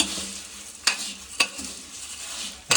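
Homemade bhel snack being stirred and mixed in a bowl, a steady gritty rustle broken by three sharp clinks of the spoon against the side, close and fairly loud.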